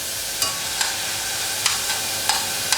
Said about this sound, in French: Je vais rajouter mes lardons.